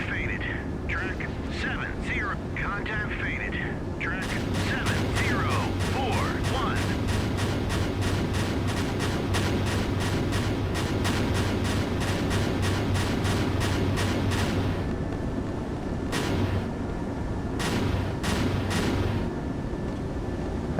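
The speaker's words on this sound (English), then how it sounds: "There's more interceptors firing." Naval missile interceptors launching in the Sea Power naval warfare game, Trollfjord scenario: a sustained loud roar of rocket motors and rumbling blasts, with someone talking over the start and sharp bursts returning toward the end.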